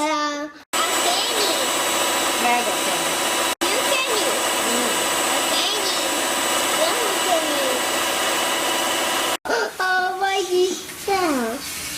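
Cake batter with vanilla and a powder mixture being mixed, producing a loud, steady whirring drone that runs almost throughout, briefly cut off twice, with children's voices audible near the end.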